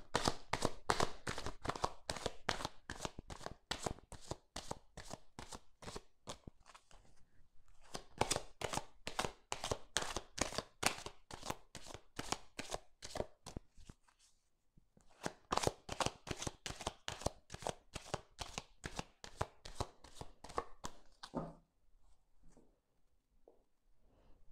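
Petit Lenormand cards being shuffled by hand in three long bursts of rapid, crisp riffling clicks, separated by brief pauses, close and alone with no talk.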